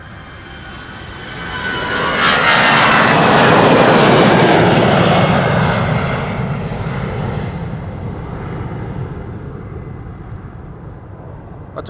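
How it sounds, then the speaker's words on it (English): Vueling Airbus A320, 17 years old, departing Amsterdam Schiphol for Palma de Mallorca: a loud jet roar swells over the first few seconds, peaks near the middle, then slowly recedes into a fading rumble. "This is Vueling flight 2904 A320 to Palma de Mallorca."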